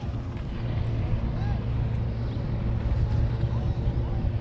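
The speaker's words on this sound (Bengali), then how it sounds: "দেখেন এরা কিভাবে স্পিড বোট চালাচ্ছে, অনেক স্পিডে" A speedboat races fast across the sea off Dubai, its engine a steady low rumble mixed with wind buffeting the microphone and rushing water, continuous and fairly loud throughout.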